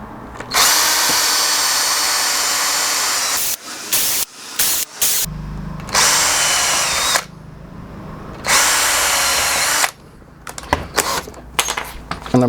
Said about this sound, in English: I'm going to drill these to stop the wood splitting.